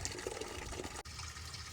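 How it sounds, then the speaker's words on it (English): Water runs steadily from the taps of a UK truck camper, a soft continuous gushing flow, faint and briefly interrupted midway. "Nice flow of water coming out the taps, that's good."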